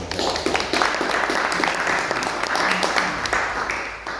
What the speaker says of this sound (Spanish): un aplauso para Gerald Rodríguez